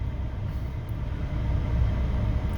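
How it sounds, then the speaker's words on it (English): A train moving slowly on tracks beside a Ford truck plant, delivering truck frames, heard as a steady low rumble and rolling rail noise that swells slightly toward the end. "We have a train in the way."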